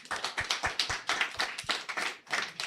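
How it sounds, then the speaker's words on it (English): A small audience claps for a panel at a Kenyan youth conversation event, giving a short burst of brisk, uneven hand claps, fairly close and moderately loud. "can we clap for the panelists?"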